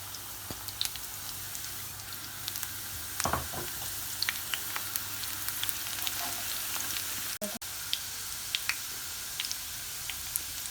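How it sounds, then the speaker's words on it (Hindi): Onion and garlic frying in oil for a red lentil curry, a soft continuous sizzle with scattered crackles and small pops, one sharper clack of a utensil near the middle, no talk. "अब हम इसमें लहसुन शामिल कर देते हैं"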